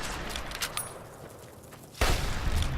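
A worn hunting rifle firing in Fallout New Vegas: a few faint shots at first, then a loud, sharp blast near the end with a broad, booming tail.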